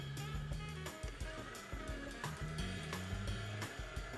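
Stand mixer churning chocolate chip cookie dough, a steady whirring motor with rhythmic clunking and scraping as the beater turns through the thick dough, close and continuous.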